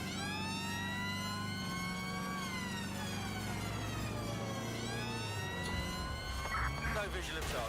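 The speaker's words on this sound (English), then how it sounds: "Ambulance." A wailing ambulance siren in the video game Watch Dogs Legion rises and falls continuously, loud and near over a low engine rumble, with a voice briefly speaking underneath.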